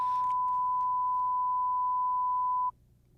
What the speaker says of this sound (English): did you hear that annoying high-pitched buzz?